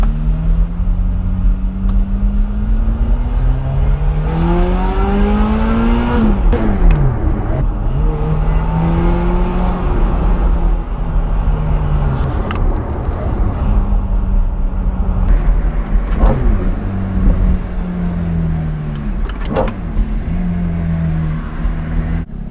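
Bright red Ferrari F430 with a manual gated gearbox driven on the road, engine droning and revving up through gears with pitch sweeps and shifts, loud and close throughout, no talking.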